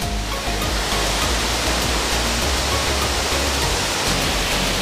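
Ssangpokpo twin waterfall in Mureung Valley, a dense, continuous roar of falling water that stays loud and steady throughout with no voices.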